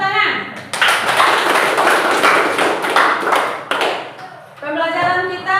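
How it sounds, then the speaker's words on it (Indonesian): A class claps hands in a burst of dense, lively clapping lasting about three seconds, close and loud, then easing off as a voice speaks before and after it. "Tepuk tangan."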